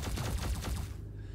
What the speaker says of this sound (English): then they'll start shooting back at you